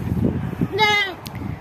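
A goat lets out one short, wavering bleat amid farmyard background noise and nearby people talking.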